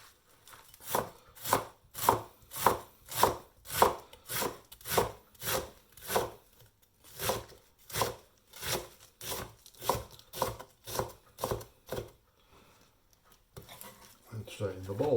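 Lettuce chopped with a knife on a board for a chopped salad, a long run of about twenty crisp rhythmic cuts, close and fairly loud, pausing briefly before a rustle as pieces are moved at the end.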